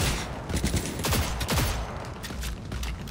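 Sustained gunfire in the video game Cyberpunk 2077 rattles on continuously, with fast overlapping shots and sharper individual cracks standing out in a loud, dense firefight.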